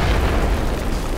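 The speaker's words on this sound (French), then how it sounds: "L'explosion d'un bâtiment" A building explosion sound effect fills the whole moment with a dense, loud, rumbling roar that is steady and heavy in the low end, with no voices over it.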